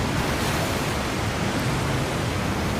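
A river waterfall roars in a steady, dense broadband rush that holds unbroken throughout, close and loud, while a Nissan Warrior Titan truck drives through the river toward it.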